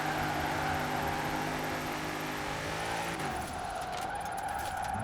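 A Ford F-150 pickup truck drifting in Forza Horizon 4, its engine droning steadily with a raised, strained tone, then dropping pitch as it shifts gear, with faint tire hiss underneath.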